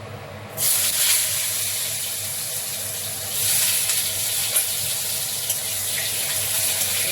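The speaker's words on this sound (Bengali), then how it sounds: "এঁচড়গুলো একটু ভেজে উঠিয়ে নিই।" Pieces of young jackfruit fry in hot oil in a wok, giving a loud, continuous hissing sizzle that kicks in abruptly at the start and swells briefly midway.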